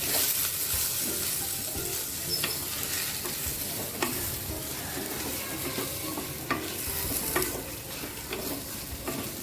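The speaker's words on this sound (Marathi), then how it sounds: "हे सुद्धा चांगलं मिक्स करून घ्यायचं चांगलं भाजून घ्यायचं आपल्याला" Grated coconut being stirred and roasted in a sizzling masala for dhaba-style sev bhaji, with a steady frying hiss and repeated scraping spoon strokes throughout.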